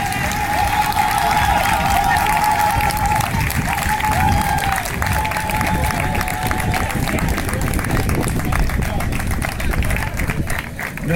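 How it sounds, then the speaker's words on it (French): Sustained audience applause for a standing ovation at a formal speech event, dense steady clapping mixed with crowd noise and murmuring lasting throughout without a break. "qui méritent un standing ovation que je vous invite à applaudir"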